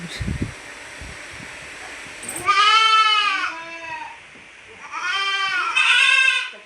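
Young goats bleat in two bursts, a long wavering cry followed by another after a pause, close and fairly loud over faint rustling background.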